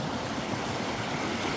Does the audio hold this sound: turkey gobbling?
no